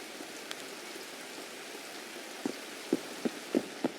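Video game rain hisses as a faint, steady wash, with a few slightly louder drops or pats standing out toward the end.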